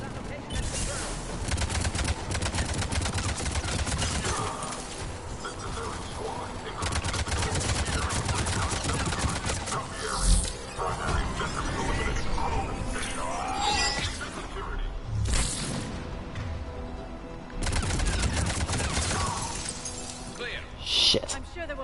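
Gunfire and shattering impacts in the shooter game Mass Effect 3 during an enemy attack, forming a dense, continuous barrage of shots and breaking sounds mixed with game dialogue and voices.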